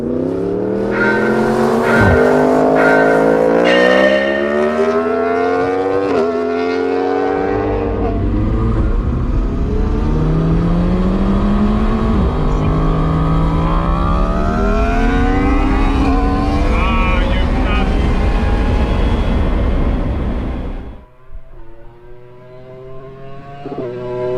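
A McLaren 720S and a Yamaha R1 launch in a drag race, their engines screaming as they climb through a quick series of gear shifts, loud and sustained for about twenty seconds before fading into quieter background noise.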